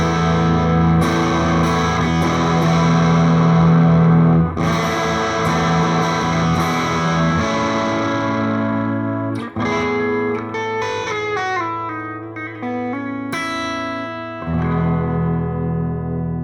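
An electric guitar rings out chords and single notes through an amplifier, with a lush reverb tail blooming behind each strum, played alone at close range.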